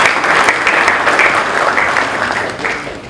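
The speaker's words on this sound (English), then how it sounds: "please, another round of applause for her" Audience applause fills a talk on yoga and wellness, a steady dense wash of many hands clapping for the full three seconds, close and loud, easing slightly toward the end.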